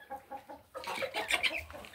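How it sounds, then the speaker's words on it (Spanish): Young chicks on a farm clucking and peeping in a quick run of soft calls, close by, growing busier and more overlapping after a short lull. "No sé si quieren ver los pollitos."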